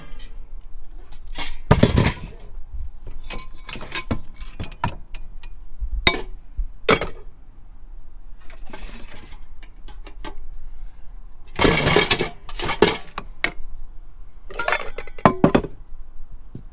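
Cooking pans and metal cookware clink and clatter in irregular bursts as they are rummaged through and stuffed back into storage inside a van, close and sharp against a quiet background.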